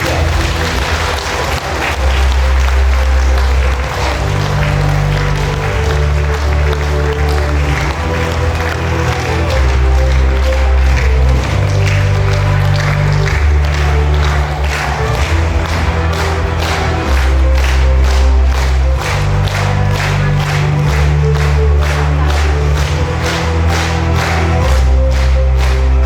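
Seminar audience at a bootcamp event applauds and cheers loudly to welcome a speaker to the stage, with sustained clapping over a pounding rhythmic music beat throughout.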